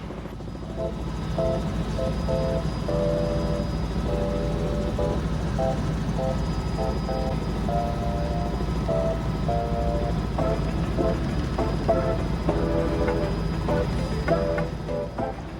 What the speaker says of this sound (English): Mick explained that Black Hills Helicopter Inc. operated 7 helicopters